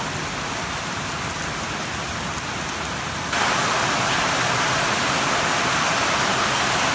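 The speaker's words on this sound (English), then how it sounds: "It's coming down quite hard at the moment now, which is great to see." Heavy rain pours down in Townsville as a dense, steady hiss that swells louder midway and stays constant, with no voices.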